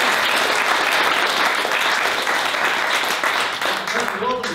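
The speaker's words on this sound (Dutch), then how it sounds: "Applaus." Loud, sustained applause from a lecture audience fills the room, steady throughout and tapering slightly at the end.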